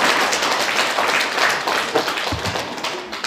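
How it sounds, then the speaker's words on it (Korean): Audience applause during a Buddhist lecture on the Diamond Sutra, a dense burst of clapping that thins toward the end, fairly close and continuous. "박수 한번 쳐주세요"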